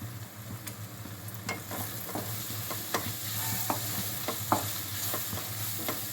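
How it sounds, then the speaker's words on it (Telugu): Ground coriander, garam masala and coconut powder frying in oil for an egg masala curry, a steady sizzle punctuated by repeated sharp spatula scrapes and taps against the pan. "ఆయిల్లో మనం వేసినవన్నీ ఫ్రై అవ్వాలి"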